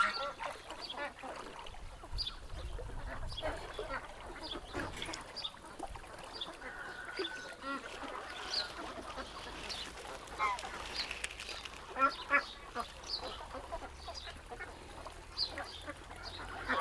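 Ducks quack in a busy, overlapping chorus with splashing water and outdoor ambience, calls rising and falling throughout.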